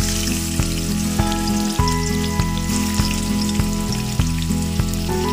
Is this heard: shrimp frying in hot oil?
yes